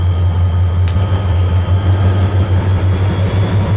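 A Bangladesh Railway locomotive in the TRAINZ Simulator game, droning with a loud, steady low diesel hum and continuous rumbling throughout, no voices.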